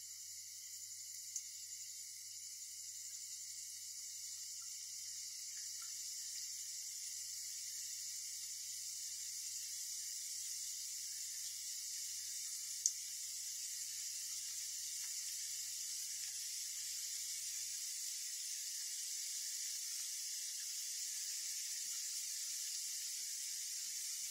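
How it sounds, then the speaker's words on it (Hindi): Corn flour nachos deep-frying on low to medium heat in a kadhai, a steady bright sizzling hiss that runs evenly and alone throughout, with one or two faint clicks. "लो से मीडियम पे हम इसको तलेंगे एक एक करके बस इसी तरह अपने सारे डालेंगे हम"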